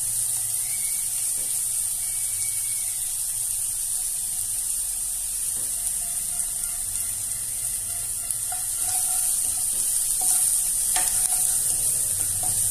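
Chicken and vegetable kurma fries in a pan while being stirred, with a steady loud sizzle that runs throughout and soft scraping stirs showing through it, and no voice.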